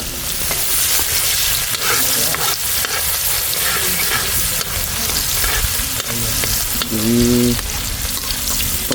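Garlic and onion frying in oil in a pan, a steady loud sizzle with stirring scrapes throughout and a brief tonal clank near the end.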